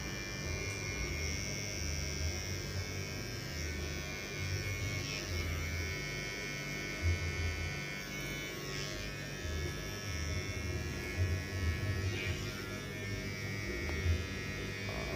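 Electric hair clipper shaving a head down to skin for a bald fade: a constant close buzzing hum with slight shifts as the blade moves over the scalp, no talking.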